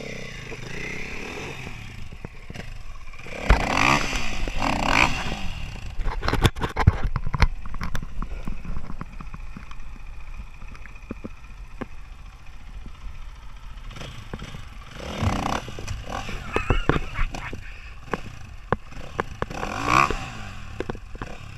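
Racing motorcycles sweeping past in two loud waves of rising and falling engine whine, with scraping and clatter between the passes and quieter engine noise in the gap.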